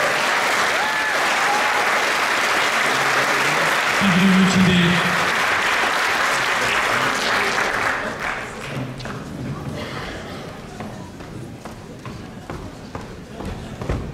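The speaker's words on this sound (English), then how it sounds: "So let's give them a very big round of applause." Audience applause for bodybuilding competitors at a Masters physique show, a loud, dense clatter of clapping filling the room for several seconds before fading somewhat as someone briefly speaks over it.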